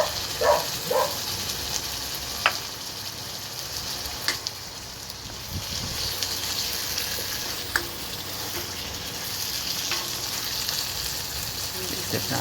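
Vegetables for pinakbet sizzle and fry in a pan, a steady close crackle broken by a few sharp clinks of stirring, with a voice speaking briefly over the cooking.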